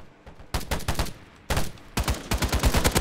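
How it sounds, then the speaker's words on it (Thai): Rapid automatic gunfire from a free first-person shooter game comes in close, loud bursts of quick repeated shots. Short gaps separate the bursts, and the fire grows denser toward the end. "ยิงจนกระสุนจะหมดแล้วเนี่ย"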